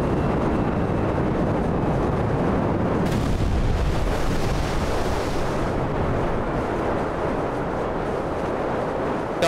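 Plane in GTA V crashing into water and exploding: a loud, sustained roaring rumble with a sharp burst of noise partway through, then continued heavy churning.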